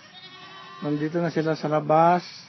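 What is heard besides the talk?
baby goats bleating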